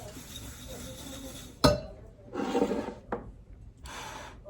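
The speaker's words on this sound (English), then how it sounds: "Give this a nice good whisk." Flour-type dry ingredients with cinnamon and salt are whisked in a bowl: a sharp clink of the whisk against the bowl, then several quick bursts of scraping and rattling strokes, close and fairly quiet.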